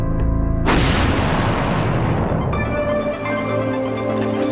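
A loud, close explosion from a booby trap set off by a rigged water tap bursts suddenly after a brief quiet moment, then a long rumbling roar slowly decays and trails off with lingering ringing debris noise.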